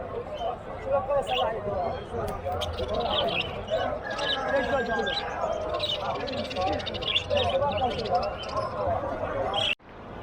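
Lovebirds chirp among other caged birds at a busy Baghdad bird market, high bright calls scattered over a constant crowd murmur and nearby talk, with a brief knock near the end.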